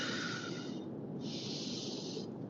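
Deep, slow breaths drawn in and pushed out close by, two long airy rushes with a short pause between them, with no talking.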